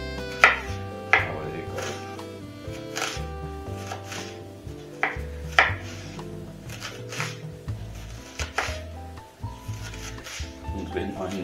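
A sharp kitchen knife chops a raw onion on a cutting board. Irregular close, crisp knocks of the blade sit over steady background music, and someone talks throughout.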